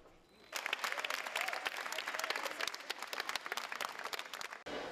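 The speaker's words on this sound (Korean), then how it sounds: "아낌없는 박수를 보냅니다" A crowd at a student creativity olympiad competition breaks into loud, sustained applause, dense clapping that starts abruptly and continues steadily before cutting off near the end, with a few faint voices mixed in.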